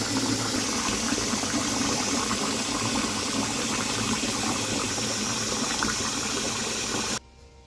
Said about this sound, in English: let's wash our cilantro. Soak it for a little bit.